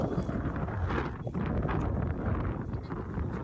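Wind buffets the microphone on Ashapura hill in Kutch in a continuous low, rough roar that rises and falls slightly throughout.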